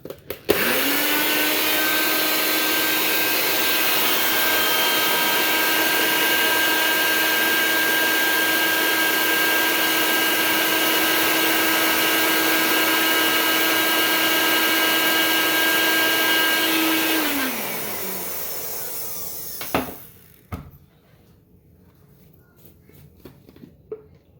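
A grinder mill pulverizes dried mint leaves into powder, a loud, steady high whine that runs for about seventeen seconds, then winds down and stops, followed by a few faint clicks and knocks.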